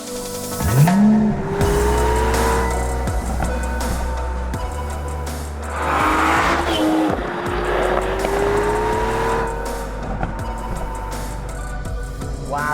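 An Aston Martin DB11 AMR engine revs and roars loudly as it accelerates, pitch rising and falling through gear changes, with road and tire noise throughout.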